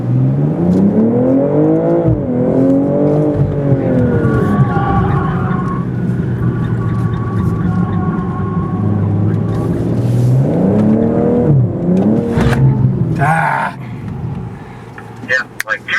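Race car lapping a circuit, its engine rising and falling in repeated revving sweeps as it accelerates and brakes through corners, loud and close, with speech over parts of it before it cuts back near the end.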